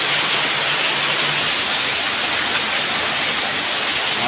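Heavy afternoon rain pours with strong wind, a dense, constant hiss and rush that holds loud and even throughout.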